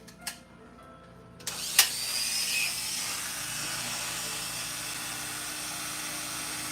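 A clipper blade sharpening machine clicks on after a few taps and spins up into a steady, high whirring drone that holds evenly, close and moderately loud.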